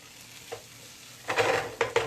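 Pork jowl sizzling in a hot pan for bucatini all'Amatriciana, a quiet hiss that swells into a louder burst of frying with a couple of quick sharp spurts, close by and without voices.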